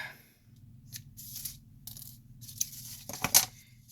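Scissors cut sewing thread at a craft table while making crepe paper pumpkin rosettes, giving a few faint snips and handling rustles, with a sharper metallic clip near the end.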